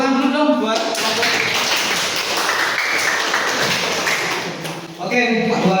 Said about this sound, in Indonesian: tepuk tangan dulu dong buat kelompok